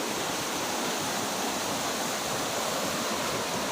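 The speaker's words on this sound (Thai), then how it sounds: "น้ำไหลตามตามเลย" Newly arrived irrigation water rushes along a channel as a loud, unbroken broadband roar, close and steady throughout, with no speech over it.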